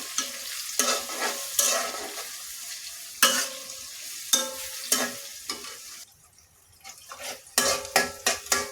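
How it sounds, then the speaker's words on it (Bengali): Onions frying in a pan with black pepper and cardamom, a bright close sizzle punctuated by repeated clanking spatula strokes against the metal, a short quieter gap, then brisk stirring again. "পেঁয়াজটা একটু লাল লাল করে ভেজে নিতে হবে"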